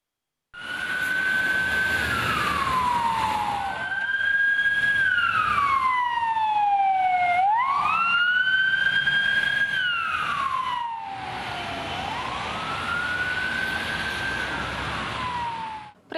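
Ambulance sirens wail at a COVID triage centre at Moldexpo, the loud, close tone sweeping up and down continuously with several overlapping pitch glides, heard alone without talk.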